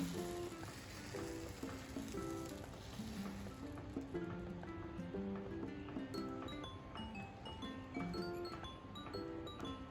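Faint, steady sizzling of dosa batter on a hot non-stick tawa with no oil, a soft continuous hiss with occasional light clinks, quiet and close.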